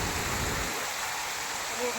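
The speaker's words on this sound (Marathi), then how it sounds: "लय पाऊस भयंकर आहे" Heavy downpour in Pune with water streaming along a road, a dense steady hiss of rain and rushing runoff filling the scene, loud and continuous with a low rumble fading early on.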